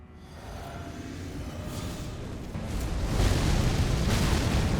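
A deep rumbling blast in Elden Ring during a boss fight with Messmer that swells and grows louder partway through, a sustained roaring boom.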